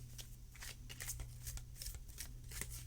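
A deck of faerie oracle cards being riffled and shuffled close by, a quiet run of soft repeated flutters and slaps over a low steady hum, with no talk.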